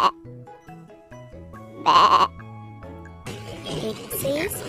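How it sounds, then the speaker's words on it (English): A single loud sheep bleat rises mid-clip between quieter stretches, followed by a noisier outdoor background with faint clinking. "Sheep says baa"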